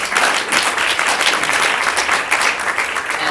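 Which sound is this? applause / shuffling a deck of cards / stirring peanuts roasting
applause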